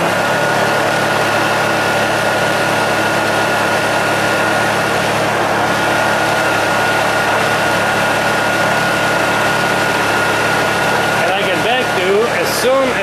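A Honda EU2000i inverter generator, fitted with a dual fuel tank, runs at full speed with a loud, steady engine hum and whine throughout, close up, with a person talking over it near the end.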